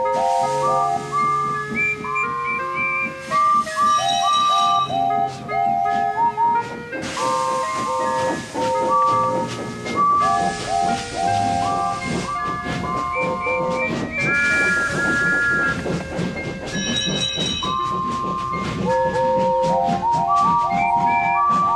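A cavalcade of steam engines sets off in a loud, dissonant chorus of whistles, many pitches overlapping and sounding in repeated blasts for over twenty seconds, with a guard's whistle among them and train rumble underneath, close and continuous.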